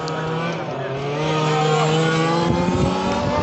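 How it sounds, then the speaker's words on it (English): Small high-revving stock weed eater engines on 1/5 scale gas RC cars buzz and whine continuously on a speedway, pitch sliding up and down as several race past at close range, loud throughout. "These guys are running completely stock weed eater engines."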